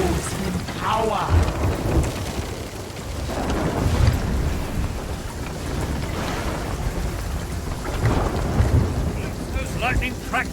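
Thunder rumbles and rain pours steadily in the Sea of Thieves pirate game, with heavy low booms rising and falling across a continuous loud wash of storm noise.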